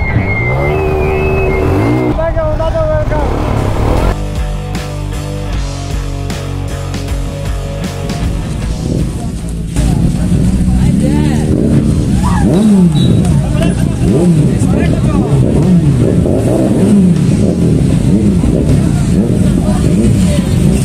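Motorcycles including Ninja, KTM and BMW bikes arrive at a bikers' birthday gathering, engines revving and roaring loudly with rising and falling pitch, over a constant wash of crowd noise and voices.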